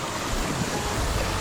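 Rushing river water at the Sulphur Gates on the Sulphur River near Grande Cache: a steady, dense roar that stays continuous and loud throughout, with no voices.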